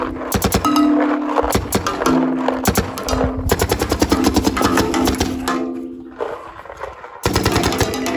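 A Planet Eclipse GEO4 paintball marker fires in rapid bursts of sharp, loud pops in quick succession, with brief pauses between strings and a steady hum underneath.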